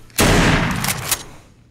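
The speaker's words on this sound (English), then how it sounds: "So we have the Nova, which is just a pump shotgun." Single loud boom of a Nova pump-action shotgun firing in the video game The Walking Dead: Saints & Sinners, a sharp blast with a short decaying tail.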